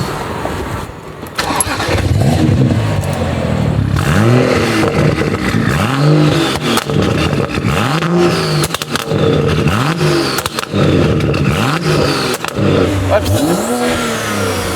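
A BMW 335i with a new hybrid turbo revs repeatedly and loudly nearby, each rising and falling engine swell repeating in a steady cycle, with a brief exclamation from a voice.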